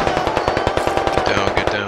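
Gunfire in the tactical shooter Squad comes as one sustained, rapid automatic burst of evenly spaced loud cracks, with a faint tonal hum beneath toward the end.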